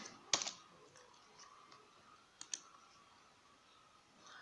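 A handful of sharp, sparse keystrokes on a computer keyboard, clicking quietly at close range with long pauses between them and no talking.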